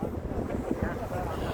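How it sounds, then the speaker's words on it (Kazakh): Wind gusts buffet the microphone at an outdoor gathering of crane operators in Astana, a loud, rumbling, steady roar filling the whole moment with no clear talking. "Ауа, жел."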